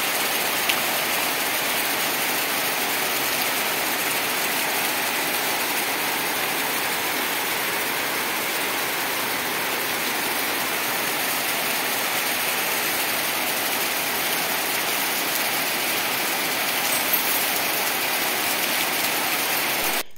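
Heavy rain pours steadily outdoors, a dense, unbroken hiss of water on surfaces that stays loud and even throughout, with no voices.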